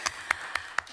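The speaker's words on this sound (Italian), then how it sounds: "un applauso" A handful of separate, evenly spaced hand claps from an audience at a cultural heritage community gathering; four sharp claps ring out over a quiet room.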